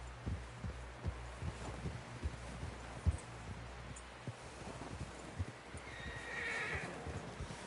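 In the Red Dead Redemption 2 video game, a horse whinnies and its hooves clop in soft, uneven thuds across the clip, fairly quiet, with a brighter neigh rising near the end.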